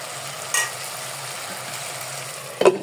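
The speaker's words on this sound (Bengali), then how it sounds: "আমি এখন ওই আর কি খুন্তিটা দিয়ে একটু ভালো করে নাড়াচাড়া করে নিব" A spatula stirring mashed potatoes in a pan, a soft continuous frying hiss with a brief scrape near the start and a louder clatter of the utensil near the end.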